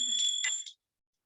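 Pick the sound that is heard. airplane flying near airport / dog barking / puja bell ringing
puja bell ringing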